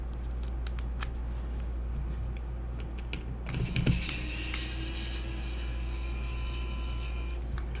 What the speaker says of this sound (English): Let's try the smallest Phillips head in here.